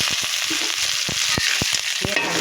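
Chana dal, dried red chilies and curry leaves frying in hot oil for aval upma, a steady sizzle broken by several sharp crackles and pops, close up with no voices.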